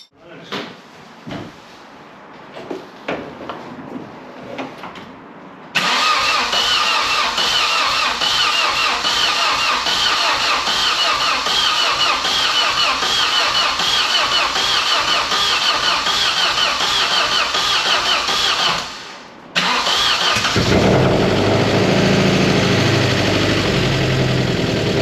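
A Vauxhall Cavalier C20XE engine fires up after a rebuild with a new cylinder head gasket and exhaust: a few clunks and cranking, then it catches and runs loudly and steadily, dipping briefly near the end before carrying on.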